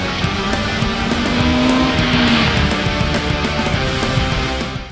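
A BMW M 1000 R motorcycle, rated at 210 hp and 199 kg, accelerates hard. Its engine note climbs loudly and steadily before easing off at the end.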